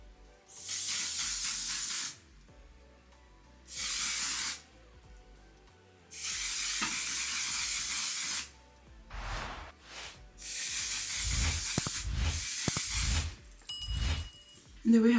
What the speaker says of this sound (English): One size setting spray.